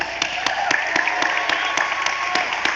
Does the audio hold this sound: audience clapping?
yes